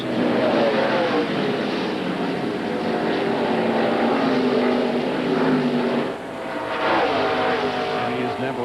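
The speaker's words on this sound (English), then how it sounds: "Here's Ernie Irvin and Dale Earnhardt coming off quarter number 4 onto the main straightaway" NASCAR Winston Cup stock cars from the 1997 final practice at Darlington roar off turn four onto the main straightaway, a loud, continuous engine drone with shifting pitch throughout, alone without talk.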